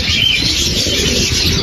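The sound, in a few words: pet shop bird calling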